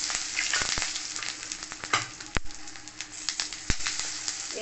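Whole spices (cardamom, cloves, cumin, cinnamon, dried chilli) sizzle steadily in hot oil in a pan for muri ghonto, with scattered sharp pops and crackles over a continuous frying hiss.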